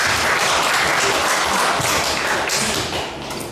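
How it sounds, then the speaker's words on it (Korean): Audience applause welcoming a speaker to a lecture, a dense steady round of clapping that tapers off toward the end. "우리 장창준 선생님을 큰 박수로 맞아주시기 바랍니다"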